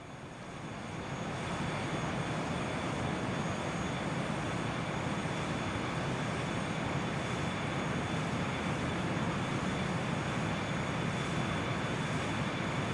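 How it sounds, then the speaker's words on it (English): Steady, loud jet engine roar of a Bombardier Challenger 300 in the X-Plane flight simulator, a dense continuous whine and rumble that swells in over the first two seconds and then holds evenly throughout. "Plane's kind of loud right now though, isn't it?"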